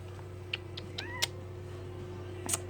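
A cat in a shelter lets out a few short, faint meows with small rising chirps, spaced across a quiet room with a low steady hum beneath.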